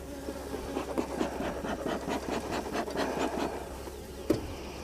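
Honey bees buzz around an opened backyard beehive with an overly tight lid and no inner cover, a steady close insect drone with small scrapes and rustles, and one sharp knock near the end.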